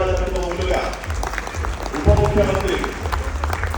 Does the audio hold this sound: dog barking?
no